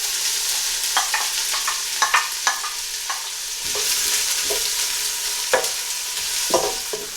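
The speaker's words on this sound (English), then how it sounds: "the onions and cumin seeds are frying nicely" Onions and cumin seeds frying in a pan, a steady sizzle with scattered clinks and scrapes of a spoon stirring, close by.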